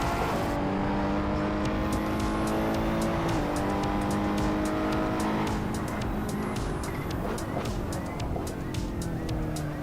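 Racing-game car with weak braking and little grip, its engine droning loudly and steadily while tires squeal and skid through the corners.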